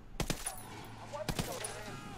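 Video game gunfire in Ghost Recon Wildlands: two quick pairs of sharp shots about a second apart, close and punchy over a low engine-like hum.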